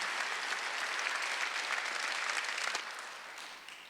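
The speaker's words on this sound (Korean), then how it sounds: "믿는 사람만 박수 한번 해주세요" A church congregation at a Sunday worship service bursts into dense, sustained applause that holds steady, then gradually fades toward the end.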